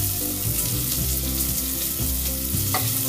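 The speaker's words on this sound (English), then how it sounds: "Add around a teaspoon of garlic paste. Now saute for around 30 seconds." Garlic paste sautéing in a spoonful of oil in a heated saucepan gives a steady, close sizzle and frying hiss that runs unbroken with no voices.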